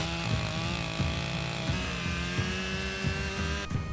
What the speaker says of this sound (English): Cutting grooves with the chainsaw allowed the logs to lock into place.